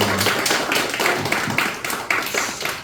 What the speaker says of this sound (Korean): 우리 축복의 우리 박수 다시 한번 감사합니다